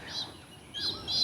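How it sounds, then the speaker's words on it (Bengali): Small birds chirp in a quiet Bangladeshi village, a few short high tweets, one early and a pair near the end, fairly close and clear with no talking. "তারপরে ওই যে পাখির কিচিরমিচির শব্দ বলেন"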